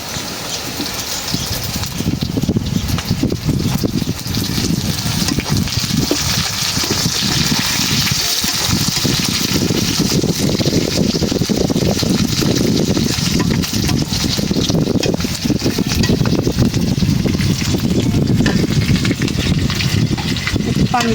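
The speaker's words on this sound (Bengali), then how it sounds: "পানি দিয়ে নিই।" Water gushes steadily into a cooking pot for about twenty seconds, a loud, continuous splashing pour over a curry being made with green chillies.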